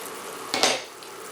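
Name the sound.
pot of water boiling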